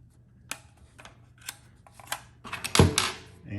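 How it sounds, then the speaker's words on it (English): Receiver pins popping out on a Sig Sauer Rattler rifle, heard as a few sharp metallic clicks and snaps spaced apart, ending in a louder cluster of clacks and a short scraping knock, close and fairly quiet. "Pop our receiver pins"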